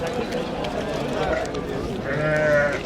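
Pregnant ewes and lambs bleat intermittently, one louder bleat near the end, under steady talking and a noisy outdoor livestock market background in Kattakurgan.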